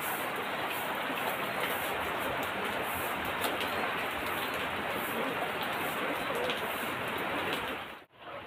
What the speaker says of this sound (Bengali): বৃষ্টি হচ্ছে, মানে ভিডিও করতে এত অসুবিধা হচ্ছে কি বলবো আর।